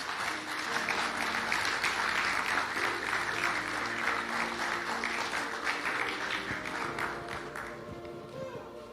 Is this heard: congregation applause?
yes